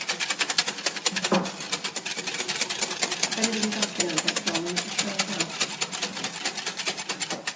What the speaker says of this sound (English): So it's important to whisk this well so that all the granules are getting dissolved